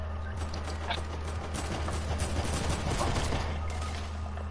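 Rapid bursts of gunfire rattle through an online shooter game, dense overlapping shots crackling continuously over a low, steady rumble.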